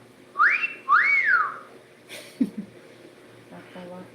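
Two loud rising and falling whistled notes come close together, followed by softer short sounds and a faint voice.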